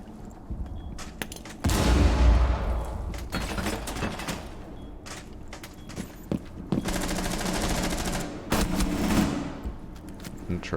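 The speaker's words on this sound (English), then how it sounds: "they are just shooting at nothing and getting shots on Maverick" Gunfire in a Rainbow Six Siege replay, with bursts of rapid automatic shots and scattered single cracks amid destruction noises, loud and up close with no one talking.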